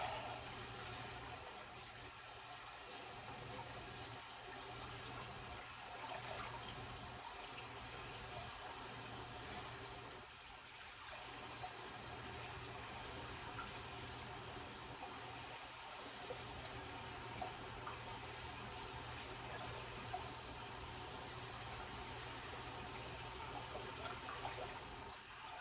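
Tap water runs steadily into a sink for rinsing, a faint continuous hiss and splash with a low hum beneath, unbroken and without talk.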